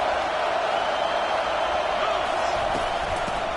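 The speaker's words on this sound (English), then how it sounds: "Decibels rising as the crowd gets behind this defense on 3rd down." A stadium crowd roars at a football game on a defensive third down, a loud dense wall of cheering that holds steady throughout, with a commentator's voice faintly mixed in.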